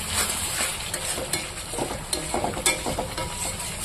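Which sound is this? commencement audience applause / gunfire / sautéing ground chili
sautéing ground chili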